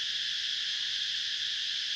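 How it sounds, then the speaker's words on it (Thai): A dense, steady chorus of frogs, toads and cicadas trills at night, an unbroken high buzzing drone with no pauses or voices. "กลางคืนก็สิมีจักจั่นห้องแล้วก็พวกคันคากนี่แหละ"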